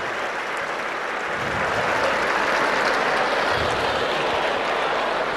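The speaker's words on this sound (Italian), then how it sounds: "Grande applauso." A crowd applauds at the Palio in Siena, a dense, continuous wash of clapping that holds steady and swells slightly, with no voices over it.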